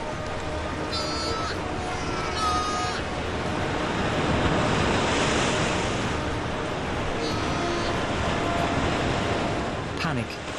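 Ocean waves crash and churn against the rocks of a Cape fur seal colony, a continuous roaring wash of surf that swells and eases, with faint higher calls rising briefly above it.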